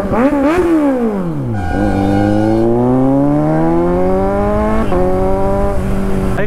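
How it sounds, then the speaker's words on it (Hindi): A Kawasaki Z900 motorcycle engine revs up close and loud, the pitch dipping and then climbing smoothly in long rising sweeps, with a brief break before it pulls up again. "भाई खुश हो गया एकदम बाइक की आवाज सुन के"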